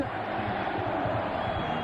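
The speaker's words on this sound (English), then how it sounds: "crowd's yelling 1994" A dense hockey arena crowd at the 1994 Stanley Cup-winning Rangers game, yelling and rhythmically chanting, a loud continuous roar with pulsing beats, carried over a radio broadcast.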